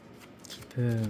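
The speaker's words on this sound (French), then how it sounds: "Je vais tirer une carte." A tarot card drawn from the deck during a reading: a brief, soft papery rustle of card handling, quickly overtaken by a voice starting to speak.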